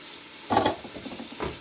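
Meat and chorizo dropped into a pan of frying onion and garlic, a sudden sizzling burst followed by crackling, stirring and spattering that comes and goes in short pulses, with no talk.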